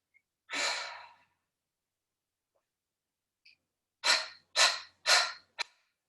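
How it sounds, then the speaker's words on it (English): Cleansing breaths pushed out through the mouth in a Kriya Yoga pranayama class: one long close exhale, a pause, then three quick forceful puffs in a row and a brief final huff. "we begin by breathing in and then breathing out"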